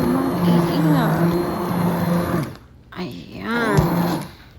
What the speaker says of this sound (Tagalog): I-hand blend po natin siya hanggang sa maging totally smooth na siya.